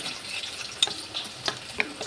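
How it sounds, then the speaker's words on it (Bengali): Onions frying with cumin in a pan and being stirred, giving a steady close sizzle with a few sharp scrapes of the spoon against the pan, with no voices. "পেঁয়াজটা ভাজা হতে হতে"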